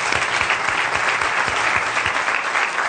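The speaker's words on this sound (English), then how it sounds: "And a round of applause for them." An audience at a data science summit claps for the staff, a dense, steady round of applause with many hands clapping close by, sustained for the whole stretch.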